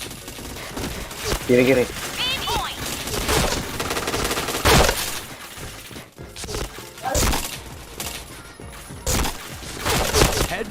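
Rapid gunfire from a video game, with bursts of automatic fire and sharp shots scattered throughout, loud and busy, while a player talks over the action.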